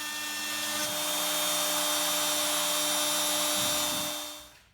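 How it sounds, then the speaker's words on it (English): A CNC end mill cuts the outline of a seven-string fanned-fret guitar fretboard, giving a steady, loud, high-pitched whine with a constant tone. It runs alone for several seconds and then winds down at the end. "I'm using a slightly larger end mill to cut out the shape of the fretboard"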